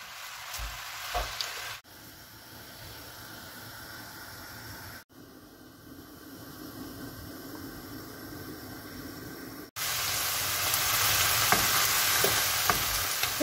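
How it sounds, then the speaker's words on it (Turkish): Spinach filling seasoned with cumin, black pepper, chili flakes and salt frying in a covered pan, a steady hiss and sizzle that shifts level in sections and grows louder toward the end. "Ve baharat olarak kimyon, karabiber, pul biber ve tuzunu birlikte ekleyip biraz karıştırıyorum."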